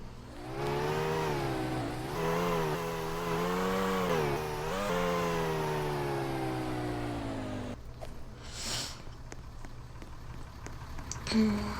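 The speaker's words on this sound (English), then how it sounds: "I gotta move the lawnmower." A lawnmower engine in a video game idles with a steady buzzing drone, rising and dipping in pitch for several seconds before cutting off, leaving quieter background noise and a short thump at the end.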